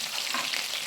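Mustard seeds, cumin, curry leaves and green chillies fry in hot oil, giving off a brief, steady sizzle close by with no voices over it.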